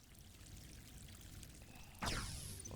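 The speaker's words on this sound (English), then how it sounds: "That water sound is definitely too big." A water sound effect in an in-development video game bursts in abruptly partway through as an oversized pouring gush, loud against a faint ambient bed and continuing to the end.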